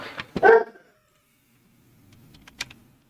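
Up close, a dog gives a couple of sharp barks and a yelp, then goes quiet except for faint whimpering and a short high whine near the end.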